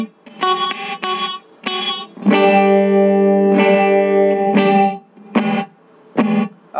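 An electric guitar runs through a Boss RV-5 reverb pedal in gate mode, with chords ringing out under a wash of reverb that cuts off abruptly, broken by short staccato stabs and a long sustained chord in the middle.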